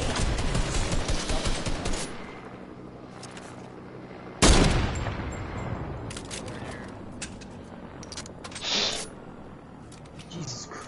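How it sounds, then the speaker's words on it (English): AR rifle fire in a video game: dense, loud automatic bursts for the first two seconds, a sharp blast near 4.5 s, then scattered shots and smaller bursts over a busy mix. "Hey guys, eat some AR bullets close behind you."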